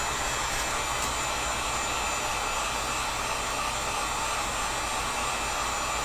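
A heat gun blows hot air onto PVC, a loud, steady whooshing roar with a constant motor whine, close and uninterrupted, no talk.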